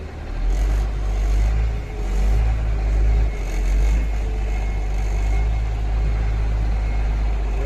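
A car engine runs steadily at close range while the car is being parked, a low rumble with slight swells in level as it idles and moves slowly, with no talking over it.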